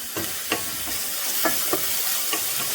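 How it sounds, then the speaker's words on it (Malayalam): Ginger garlic paste being stirred in a hot pan for moringa ghee rice, a bright steady sizzle broken by several spaced spoon scrapes against the pan, no speech. "നമ്മൾ ചേർത്ത് കൊടുത്ത ജിഞ്ചർ ഗാർലിക് പേസ്റ്റിൻ്റെ ആ കുത്തുമണുണ്ടല്ലോ, അത് പോണ വരെ നല്ലതുപോലെ ഇളക്കി കൊടുക്കാം"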